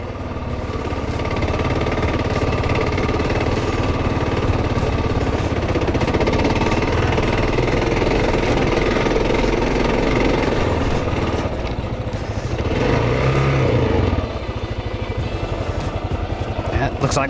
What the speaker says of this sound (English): let's see how these adventure bikes handle the climb back out